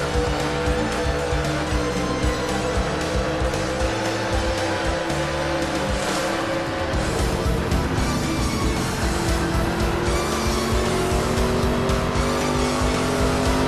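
Onboard audio from race car number 5 in a North Carolina round of a racing series: a loud, continuous engine roar that stays high, with a shift in pitch partway through and steady road noise.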